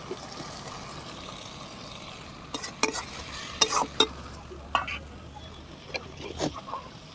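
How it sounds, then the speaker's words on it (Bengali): Spice paste with water, chopped tomato, turmeric and salt cooks in a pan for a mushroom kasa, giving a low steady sizzle broken by clicking, scraping stirs that grow busier in the second half. "আমি এবার মশলাটাকে ভালো করে কষে নেব"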